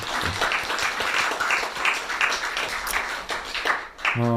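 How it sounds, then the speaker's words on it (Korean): A church congregation applauds together, a dense patter of many hands clapping continuously at moderate volume. "모든 분들께 우리 격려의 박수로 함께 했으면 좋겠습니다"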